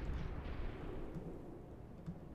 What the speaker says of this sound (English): That was a weird nade.